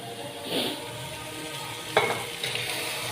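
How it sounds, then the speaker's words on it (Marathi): Mashed boiled vegetable batter for pav bhaji hits a hot pot, giving a soft steady sizzle with a brief clink of a utensil against the metal. "आता हे सर्व बॅटर आपण आता या टोपामध्ये टाकणार आहोत."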